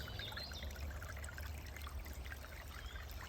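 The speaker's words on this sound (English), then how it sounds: "Listen to the trickle as it is drawn inimitably to the Painswick" Water trickles and pours steadily along a small stream flowing toward Painswick brook, a continuous close babbling with a low watery rush underneath.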